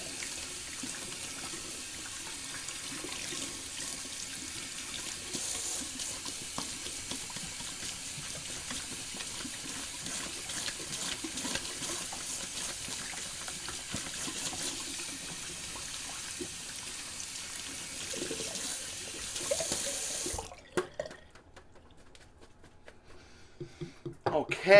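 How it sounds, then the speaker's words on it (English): A shaving brush is rinsed under a running bathroom tap, with a continuous steady hiss of water for about twenty seconds before it cuts off, leaving a few faint handling sounds. "I'm actually going to quickly rinse out this brush."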